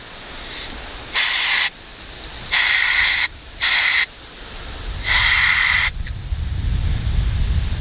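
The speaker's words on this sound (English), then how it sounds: "blow out the burner with some compressed air" Compressed air blasts in short hissing bursts into the burner of a Dometic RV propane refrigerator, four bursts of roughly half a second to a second each, close by over a steady background rumble.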